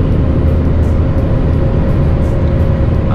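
A Mercedes-Benz Axor truck engine pulls away with a loud, steady low rumble that holds constant throughout.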